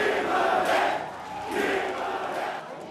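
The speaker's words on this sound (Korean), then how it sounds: "선거 상황실에서는 환호성이 터져나왔습니다" A crowd cheers at a campaign election situation room on Korean local election night, a broad roar of voices that swells twice and then eases off, loud and fairly close.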